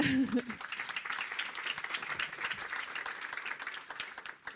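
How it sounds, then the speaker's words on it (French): An audience applauds a panel at a conference on data anonymisation, steady mid-level clapping filling the whole stretch, with a voice speaking briefly at the very start. "je crois qu'on peut vous applaudir"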